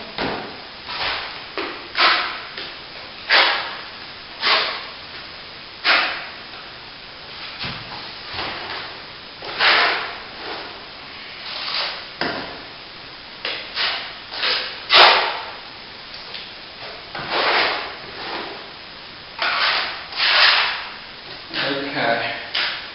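Trowel spreading and smoothing solid plaster during a wall repair, a repeated series of scraping swipes, each a short rasping stroke, irregularly spaced and close.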